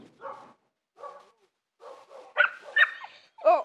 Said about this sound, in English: that is not my dog barking